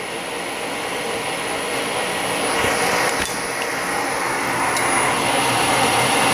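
A G0602 lathe under CNC control threading an aluminum workpiece at about 400 RPM, a steady loud mechanical whir and hum with a high whine throughout, a few brief clicks, no speech.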